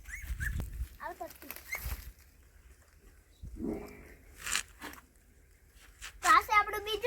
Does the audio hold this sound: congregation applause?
no